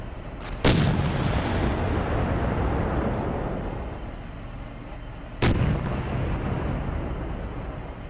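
Artillery fire and shell impacts in the tank simulator Steel Beasts: two sharp, loud blasts a few seconds apart, each followed by a long rolling rumble that slowly fades.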